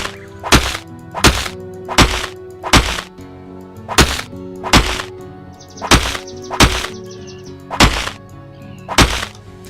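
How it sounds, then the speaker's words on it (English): A steel tumbler lock in the video game Eschalon: Book 1 is smashed with about ten heavy thwacking blows, each hit loud and close, landing at a steady rhythm roughly once per second. "Looks like a fairly complex steel tumbler lock. Okay, can I smash it?"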